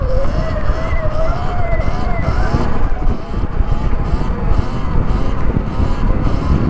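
Sur Ron electric dirt bike carried in a long wheelie, its motor whine holding and slowly rising over constant heavy wind rumble close to the microphone.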